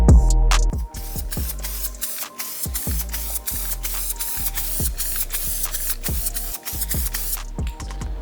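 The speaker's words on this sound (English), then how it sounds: "This is like some spray bomb edge primer that I got from work." An aerosol spray bomb of edge primer hisses in short repeated bursts, with a rattling clatter between sprays, loud and close in a workshop.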